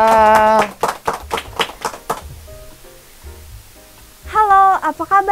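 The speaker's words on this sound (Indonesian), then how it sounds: "Kita sambut bersama dengan tepuk tangan yang meriah ya." A studio audience on a talk show gives a handful of sharp, separate claps to welcome guests. Voices speak and sing briefly before and after the claps.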